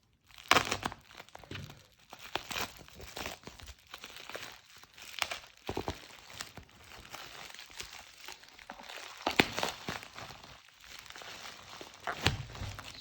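Bubble wrap around a Casio F-91W watch box is cut and pulled apart, giving close crinkling, crackling and tearing bursts with sharp snaps at irregular intervals, with no talking.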